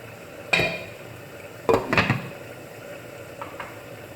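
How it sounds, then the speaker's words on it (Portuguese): A metal cooking pot lifted off a stovetop, with a few distinct clanks and scrapes: one sharp knock, a pair of clattering hits a second later, then faint taps, all close with no talk. "Agora eu vou tirar daqui a panela"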